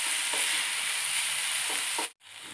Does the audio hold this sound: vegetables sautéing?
yes